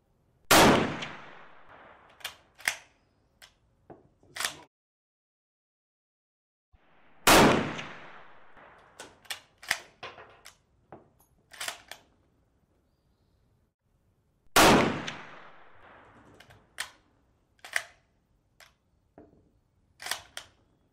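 A Kar 98 carbine fires three sharp, loud shots spaced about seven seconds apart, each followed by quick metallic bolt-action clacks and clicks in otherwise quiet surroundings.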